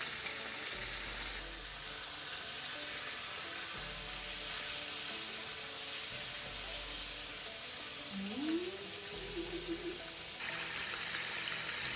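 Pork chops fry in a slightly crowded pan, giving off a steady, close hiss of sizzling fat that continues evenly throughout with no one speaking.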